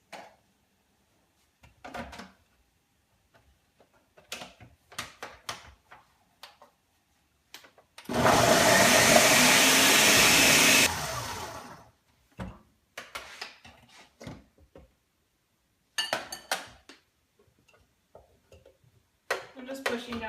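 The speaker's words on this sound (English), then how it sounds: "I'm putting the cauliflower in the blender, and we're gonna blend it for like 20 seconds." Blender whirring through cauliflower for pizza crust, a loud dense roar lasting about three seconds in the middle, surrounded by quieter kitchen clatter and speech before and after.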